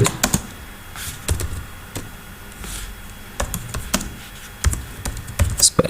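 Clicks from a computer keyboard come in short irregular bursts of taps with small pauses between, close and clear, with no talking over them.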